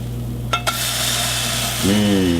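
Steady sizzling of apple pancakes frying in a pan, with a couple of quick scraping clicks and a rising tone near the end.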